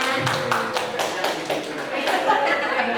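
Clapping from a group in a classroom game led by a teacher, with bursts of claps under speech and faint chuckles, moderately loud and fairly close.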